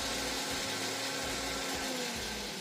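A KitchenAid K400 blender runs steadily at speed, ramped up from speed 1 to speed 5, mixing a paste that takes in garlic and tahini; a loud, continuous motor whir and blade hum with no talk over it.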